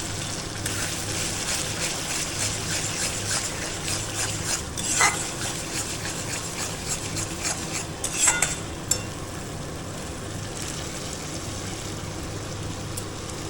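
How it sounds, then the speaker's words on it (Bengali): A thin prawn malai curry gravy made with coconut milk bubbles and simmers in a pan, a steady soft sizzling hiss with occasional stirring clinks and scrapes. "ঝোলটা একদম ফুটছে পাতলা আসবে হবে"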